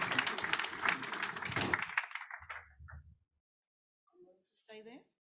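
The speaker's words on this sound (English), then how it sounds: "Please give everyone a clap." Audience applause at the launch of an urban transformation research centre: a dense burst of clapping for about two seconds that thins and dies away, followed by near silence and a brief faint voice.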